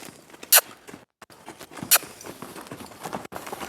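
A mare's hooves strike the ground in a loping rhythm, muffled thuds and clip-clops close by, with two sharp bright cracks standing out among the steps.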